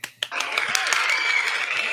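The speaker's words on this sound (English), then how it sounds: "Let's give them a round of applause" Audience applause, a couple of sharp opening claps followed by a short steady burst of clapping from a small group.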